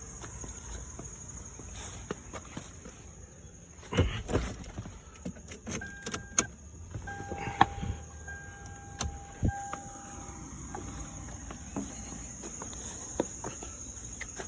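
Car keys for a Lexus ES 300 jangle in short, close clinking bursts during a tail light replacement, set against a steady high chirping of crickets outdoors.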